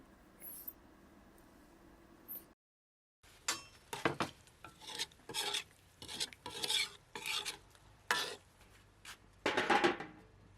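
A spoon scrapes and stirs duck curry in a cooking pot in a series of close, uneven strokes, with faint bubbling between them and no talking.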